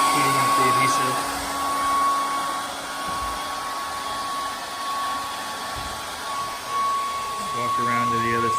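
A heat gun blows hot air to soften badge adhesive on a 2018 Ford F-150 fender, giving a steady close whooshing roar with a constant whine that runs throughout.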